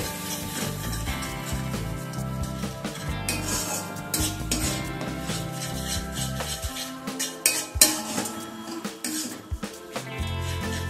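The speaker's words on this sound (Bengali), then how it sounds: "টক দইটা দেবার পর প্রথমে একবার মিশিয়ে নেব ভালোভাবে।" Pomfret masala with sour yogurt stirred in a pan, a spoon scraping and clinking against the metal in steady, close strokes over a low background hum, with no talking.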